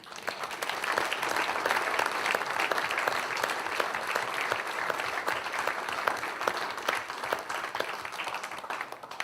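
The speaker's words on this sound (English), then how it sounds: "A round of applause to Michael." Audience applause at the Indie Awards 2022 as a presenter is invited to the stage, a steady, fairly distant patter of many hands lasting the full nine seconds with individual claps poking through.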